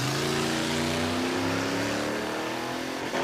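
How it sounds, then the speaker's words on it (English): A car engine holding at high revs against the rev limiter, its steady buzzing drone rising slightly in pitch and staying loud and close for the whole stretch, with no talk over it. "Oh, he's on the rev limiter."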